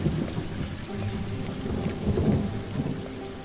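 Rolling thunder under steady heavy rain during a storm in the video game The Perils Of Man, a continuous low rumble swelling near the end over constant rainfall, with no voices.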